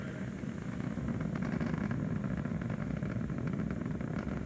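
A continuous, deep roaring rumble of a Falcon 9 rocket's nine Merlin engines during ascent, steady and distant-sounding with a broad, noisy texture.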